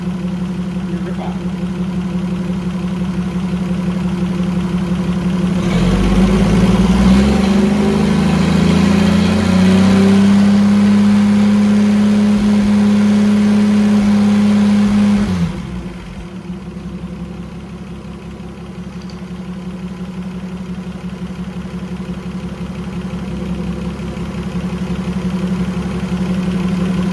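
A freshly rebuilt Holden FJ Grey motor runs loud and close, rising into a strong rev that holds for several seconds, then drops back to a steady, lower idle that carries on.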